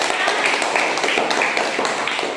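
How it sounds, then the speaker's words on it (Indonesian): A classroom of students claps for their classmates, a dense, even patter of many hands sustained throughout, with voices mixed in underneath. "tepuk tangan dulu untuk teman-teman"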